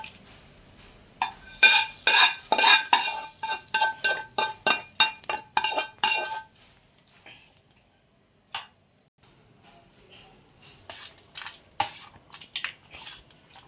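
Tempering in oil being mixed for a mango pulihora, a fast run of close clinking and scraping strokes on a metal vessel, then sparser taps and clinks later on, with no talking.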